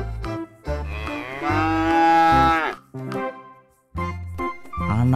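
Cattle on a truck, mother cows with calves, give loud, close, drawn-out moos, several long calls in a row with short gaps between them, and no talking.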